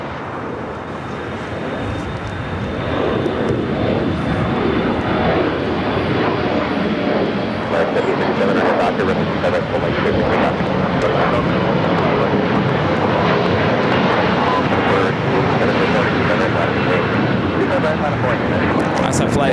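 United airliner taking off on runway 25 left at LAX, a loud, sustained jet engine roar that builds early and holds steady, with a voice talking over it.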